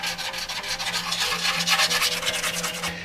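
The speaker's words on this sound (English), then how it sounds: "I'll sand it without a block just to get a nice smooth surface on everything" Hand sanding a motorcycle part for an FZR restoration and Ninja trackbike repaint, done without a block: a steady, close rasping rub with rhythmic back-and-forth strokes running continuously under a low background hum.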